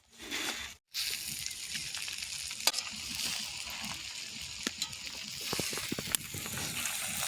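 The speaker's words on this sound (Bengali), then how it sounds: "চাউমিনটা একটু ভালো করে ফ্রাই করতে হবে" Vegetable chowmein fries in a pan in a village-style home kitchen, a steady close sizzle with occasional sharp clicks and scrapes of stirring after a brief pause near the start.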